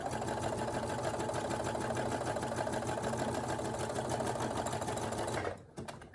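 A Brother SE1900 sewing machine fitted with a blind stitch foot runs steadily at a rapid, even whir of stitching, close and alone, then stops abruptly near the end.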